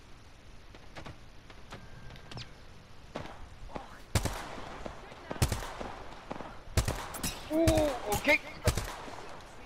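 Gunfire from the video game Apex Legends, with scattered sharp shots that build into quick bursts and rapid volleys in the second half, under occasional speech.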